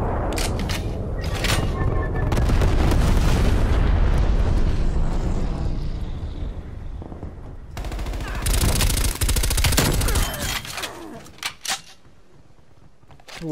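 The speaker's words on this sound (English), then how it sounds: "napalm strike inbound" In Call of Duty Cold War gameplay, a napalm strike brings heavy booming explosions and rushing blasts, mixed with bursts of rapid machine-gun fire and scattered gunshots, loud and dense throughout.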